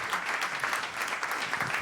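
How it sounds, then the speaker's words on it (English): An audience claps for a performer at a community event with music, a dense, steady round of applause from a crowd filling the whole clip, with faint voices mixed in. "Can I get a round of applause for Shaka here"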